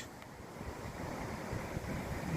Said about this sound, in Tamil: எவ்வளோ பெரிய பீச் ஆக்ரோஷமாக இருக்குது கடல்